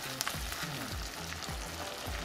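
Chipotle tuna for gobernador-style quesa tacos sizzles steadily in a hot pan, a close, continuous frying hiss with occasional stirring scrapes and no talking.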